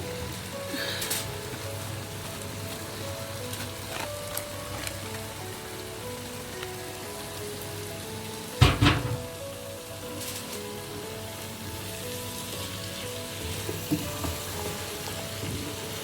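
Radish and potato fry in hot desi ghee, giving a steady, rain-like sizzle and crackle with one sharp loud burst midway as the vegetables go in; no talking.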